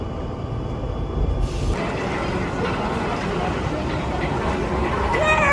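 A train rumbles along with a constant heavy roar of wheels and carriage noise, voices murmuring faintly beneath it.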